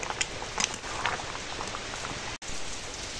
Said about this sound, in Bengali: এখন ঝমঝম করে বৃষ্টি হচ্ছে